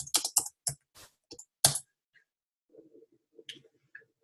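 Keys on a computer keyboard are struck in a quick, uneven burst of sharp clicks, then a pause and a few softer taps and clacks, close and quiet in a still room.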